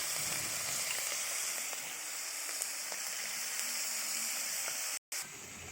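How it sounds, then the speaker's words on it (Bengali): Prawns frying in hot oil give a steady, close sizzling hiss that continues without a break, apart from a brief dropout near the end. "চিংড়ি মাছটা দেওয়া হলো ভাজার জন্য।"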